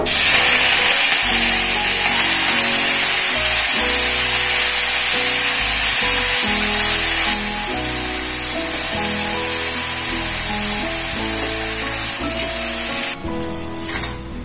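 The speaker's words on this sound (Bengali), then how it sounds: "তেলটা গরম হয়ে গেছে, পালং শাকগুলো দিয়ে দেব।" Spinach frying in hot mustard oil in a home kitchen: a loud, continuous hiss and sizzle that holds steady throughout, slightly easing midway, with a brief clatter near the end.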